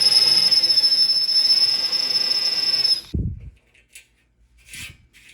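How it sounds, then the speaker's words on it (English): A power drill with a bit countersinks a screw hole in a camper frame, a loud high whine held close for about three seconds, then a thump and brief handling noises. "To countersink these, I'm just going to use a drill bit"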